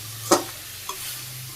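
Desi rooster curry being stirred and fried in a pan, two short scraping stirs with a soft sizzle underneath, close and clear with no voices.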